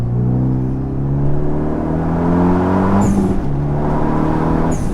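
A Renault Megane 2 RS R26R engine drones steadily from inside the car, with a sharp blip and pitch drop around the middle as it brakes and downshifts, plus faint squeaks.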